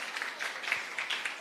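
Applause at a children's church VBS final day program, a brief patter of clapping from an audience that stays moderate and fairly even.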